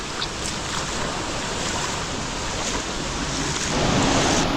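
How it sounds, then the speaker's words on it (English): Steady broadband rushing water fills the scene, like a waterfall heard from nearby inside a cave in Bali, growing a bit louder toward the end. "there's a sick waterfall in there"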